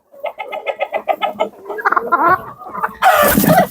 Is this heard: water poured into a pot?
no